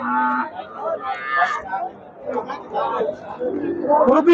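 At a large cattle market in Barisal, cattle low briefly among the constant chatter of buyers and sellers, with someone talking close by over the crowd.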